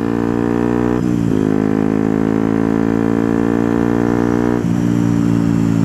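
A Yamaha WRX 125 motorcycle with an Arrow exhaust held at full throttle, a loud, steady, close engine drone whose pitch climbs, drops sharply at a gear change, then climbs again before another shift near the end.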